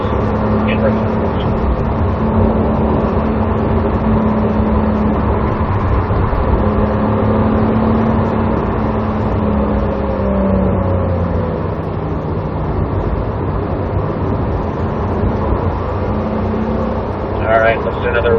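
Porsche race cars circling a track at a racing school, a steady engine drone with rising and falling revs throughout, a car passing partway through, and someone talking over the motor noise.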